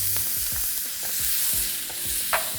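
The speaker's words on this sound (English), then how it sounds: "Ginger and garlic in a wok, nothing better." Garlic and ginger sizzling in a hot wok, a loud steady frying hiss with repeated stirring scrapes and clanks, close up and alone.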